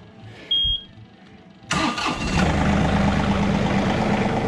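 A John Deere 2038R compact tractor engine cranks briefly after a faint beep, catches and settles into a steady, fairly close diesel idle that carries on at even loudness.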